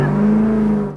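A Ford car's engine holds a loud, steady high-rpm rev during drift practice at a Ford festival, a strong droning tone that carries without a break for the whole second before cutting off sharply at the end.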